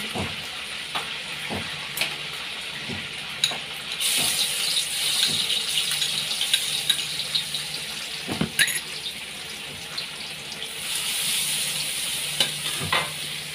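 Garlic sizzling in a pan for a stir-fried bean sprout and tofu dish, a steady hiss with scraping and stirring clicks, the sizzle swelling louder at moments.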